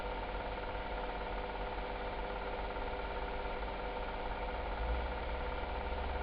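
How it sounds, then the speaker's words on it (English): Classic cars, including a Rover and a Buick, circling a track, heard as a steady, continuous engine drone of even loudness throughout, with no talk. "There's my Rover going around."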